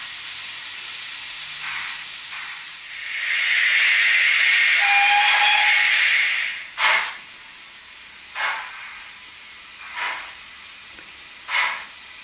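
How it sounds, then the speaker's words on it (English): A J15 steam locomotive's Westinghouse air pump chuffs slowly in spaced, hissing bursts while the locomotive moves, after a long steady hiss of steam, close and loud, with no talking. "the Westinghouse pump is still working quite slowly while the locomotive is in motion"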